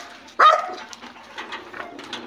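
A dog lets out one sharp, close bark, followed by softer whimpering and scratchy yelps in a quiet outdoor setting.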